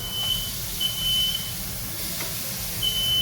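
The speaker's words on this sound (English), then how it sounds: "Oh, there's smoke, man. My alarm's gonna go off. There it goes." A household smoke alarm beeps, set off by smoke from bacon and cheeseburger patties cooking on high heat, with several short high chirps spaced irregularly over a steady sizzling hiss.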